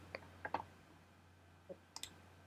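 Computer mouse buttons click sharply in a quiet room over a low electrical hum: a few separate clicks, with quick double clicks around the half-second mark and again near the end.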